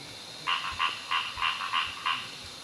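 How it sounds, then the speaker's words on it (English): Frog calling in a repeated series of six short, evenly spaced croaks, fairly close and clear over a quiet background. "it's important to know all the different calls of a frog that you're looking for"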